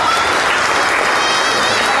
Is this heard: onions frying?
no